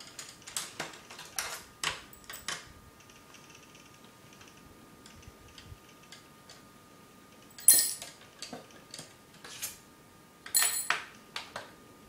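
Small Torx T8 screws from a disassembled Xbox 360 clatter one after another into a bowl, a series of sharp metallic clicks and taps with quiet gaps, a few louder drops standing out.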